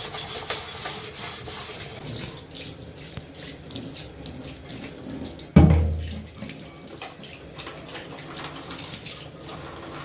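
Cooking pots and utensils being rinsed under a running kitchen tap, a steady close splash of water with rubbing and one sharp clunk midway, and no talking.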